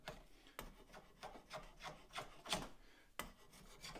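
A horseshoe rasp shaves tiny curls from a wooden tool handle, steady rhythmic strokes roughly twice a second, close and quiet, alone.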